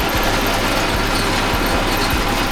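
A combine harvester engine runs loud and close before threshing soybeans, a heavy, even drone broken by regular low thumps about every half second.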